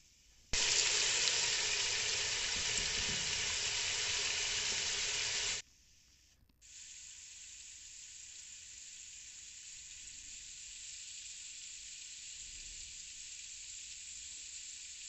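Potato koftas frying in hot oil give a loud, steady sizzle that stops briefly and then returns at a slightly lower level and holds evenly.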